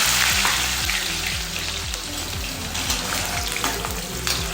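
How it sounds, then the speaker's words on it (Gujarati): Raw banana pieces and capsicum fry in hot oil, a loud, continuous sizzle and crackle that runs without a break, close by and with no talk over it. "કાચા કેળાને આપણે તળી લઈશું"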